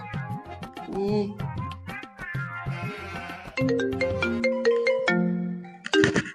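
A mobile phone rings with a tuneful electronic ringtone, a run of bright melodic notes that plays on for about six seconds, with no talking over it.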